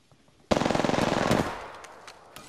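Rapid automatic gunfire in Apex Legends on PS4 Pro: a loud burst of about a dozen evenly spaced shots lasting roughly a second, cutting off into a fading ringing tail, with scattered faint clicks before and after.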